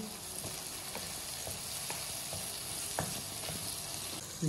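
Tomatoes and onions frying into a masala for aloo bhujia, a soft continuous sizzle with periodic scraping knocks from stirring, fairly faint and with no talking.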